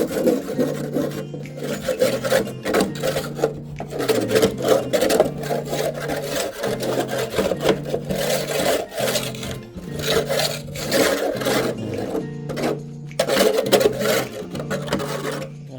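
A worn barbecue grill being scrubbed clean outdoors, with steady rasping strokes in repeated bursts that continue for the whole stretch, fairly loud and close, with no talk over them.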